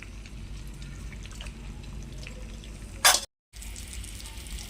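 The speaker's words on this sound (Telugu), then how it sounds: "అవి కొంచెం వేగేదాకా ఆగాలి" Cumin and mustard seeds sizzle in hot oil for a tempering, a dense, even crackle that swells into a short sharp burst before a moment of silence, then resumes.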